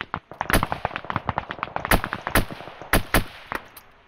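Rifle shots in Arma 3 during a military simulation operation, a busy string of sharp cracks and thuds at varying distances, several louder reports standing out among quicker distant pops.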